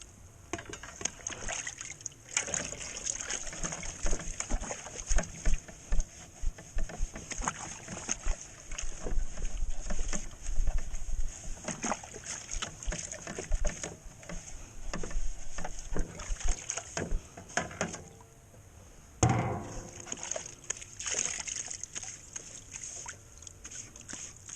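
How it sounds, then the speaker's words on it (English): Drywall tools being washed in a bucket of water with a sponge: continuous splashing, sloshing and scrubbing close by, with irregular louder slaps and a brief lull near the end, and no speech. "Water bucket sponge technique, or you can use a wash-up area hose"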